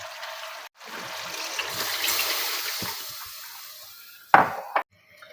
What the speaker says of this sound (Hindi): अब इसमें 2 कप हम यखनी के डाल देंगे, चिकन यखनी के 2 कप ऐड कर देंगे इसके अंदर।